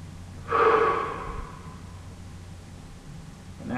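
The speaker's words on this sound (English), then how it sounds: "Take a nice deep breath." Deep meditative breathing: one long, slow inhalation swells close and clear, then eases off into quiet room tone, with a faint second breath starting at the end.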